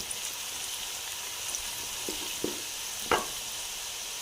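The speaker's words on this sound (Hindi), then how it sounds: "तो इधर हमारे प्याज ब्राउन हो रहे हैं।" Steady, soft sizzling of onions browning in a frying pan, with a few light knocks of stirring near the end and no talking.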